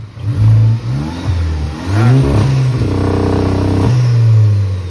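A Proton Wira fitted with a Volkswagen Golf engine and DSG gearbox revs loudly and close by, the engine note rising and dropping through several bursts before settling into a steady, strong drone.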